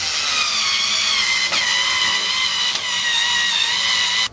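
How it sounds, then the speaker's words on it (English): A power drill drives screws into a wooden slide board, a loud, continuous high whine that falters briefly twice and stops abruptly at the end. "now we'll go ahead and add the rest of the screws"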